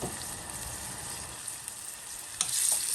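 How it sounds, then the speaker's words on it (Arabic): Tomatoes cooking down with garlic in a pot give off a steady, fairly quiet sizzle and bubbling, with a brief louder clatter near the end and no talking. "اثناء ما الصلصه بتاعتنا بتتسبك الطماطم بتتسبك اهي"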